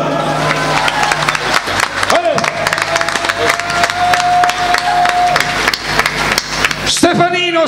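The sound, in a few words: applause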